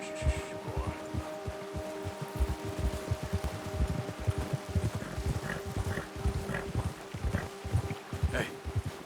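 A horse in the game Red Dead Redemption 2 walks with a steady stream of hoof clip-clops under a constant low hum, while a person talks over it throughout.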